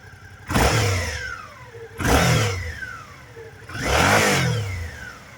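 A 2023 Suzuki V-Strom 650 XT adventure motorcycle with a V-twin engine is blipped three times in a row. Each sharp, loud rev swells quickly and then sinks back to a low idle.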